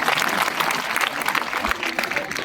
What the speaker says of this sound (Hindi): कृपया मंच पर आए और